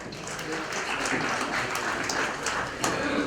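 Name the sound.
audience applause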